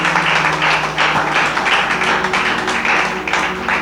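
A church congregation applauding during a sermon, steady rhythmic clapping that pulses in even waves, loud and close, filling the room.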